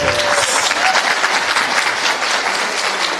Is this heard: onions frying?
no